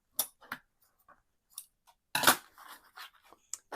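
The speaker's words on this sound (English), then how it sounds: "Now let's cut this seam binding off." Scissors snipping seam binding on a tri-fold mini album craft project: a few quiet, close snips and clicks scattered through near silence, with one denser cluster of cutting in the middle.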